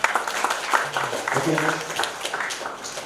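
Scattered clapping from a group mixes with talking voices in a lecture room, a short burst of applause under speech.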